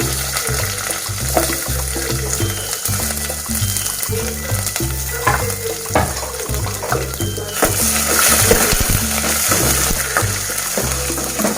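Onions and green chillies frying with cumin in a hot pan, a steady loud sizzle with stirring scrapes throughout, growing brighter and hissier toward the end.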